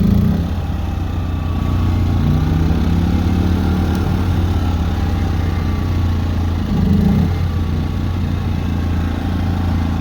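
A portable generator runs steadily at close range, a loud continuous low engine drone with a slight mechanical rattle that holds even throughout.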